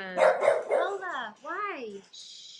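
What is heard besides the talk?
dog barking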